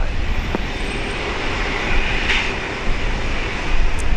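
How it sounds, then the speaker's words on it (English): Jet airliners taxiing at Brisbane International Airport give a steady, loud engine roar and rumble that holds fairly constant throughout, with slight swells in intensity. "We'll get a good view of them taxiing back there."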